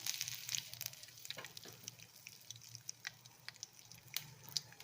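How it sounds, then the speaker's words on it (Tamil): Mustard seeds crackle and sizzle in hot oil in a pan, a steady busy frying hiss with small sharp pops scattered throughout, close and fairly quiet. "இதில் இப்போது எண்ணெய் காஞ்செடுத்து கடுகு போட்டுக்கிறேன்."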